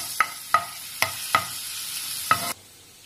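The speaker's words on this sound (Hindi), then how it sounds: "बटर डालने के बाद मैं इसमें चॉप करा हुआ अदरक और लहसुन डाल दूंगी।" Chopped ginger and garlic frying in butter in a pan for soya momos, a steady close sizzle broken by about five sharp scrape or stir clicks, then the sizzle drops away near the end.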